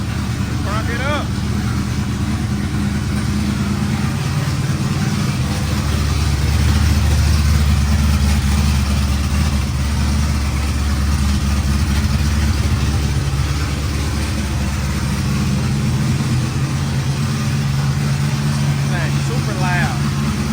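A car engine started by remote start idles loudly after recent work that may have left an exhaust leak, giving a steady, deep exhaust drone throughout, with a voice speaking over it at times.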